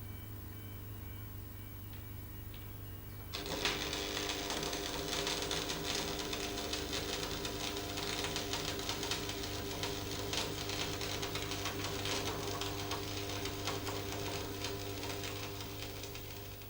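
After a quiet start, an electrode arc-welding 6mm steel plate lying flat on a bench, held at 45 degrees, gives a steady, dense crackling hiss that continues evenly to the end.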